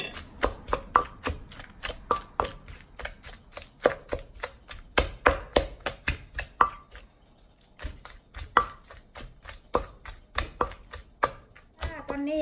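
A knife slicing tamarind on a board for an Isaan-style sauce, heard as a fast, steady run of sharp chopping knocks, close and loud, with a brief pause midway before the cutting resumes.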